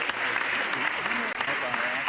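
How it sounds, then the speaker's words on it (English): Studio audience applause on a comedy talk show, steady dense clapping filling the whole moment with faint voices mixed in. "They need to hear that applause"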